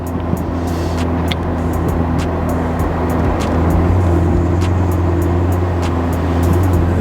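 A Ferrari 488 Spider's engine hums steadily and loudly with a low droning tone while driving with the top down, joined by wind and road roar and a few brief clicks, with no talking.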